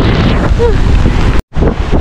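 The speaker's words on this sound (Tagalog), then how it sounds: "Sobrang lakas ng hangin." Strong seaside wind during a typhoon at Bucana batters the microphone in loud, continuous roaring gusts, with a brief dropout near the end before the buffeting resumes.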